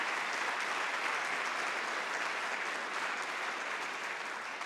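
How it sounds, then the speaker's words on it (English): A concert audience applauds in a full, even burst of clapping from many hands, sustained without a break for several seconds. "Let's give them a round of applause as well."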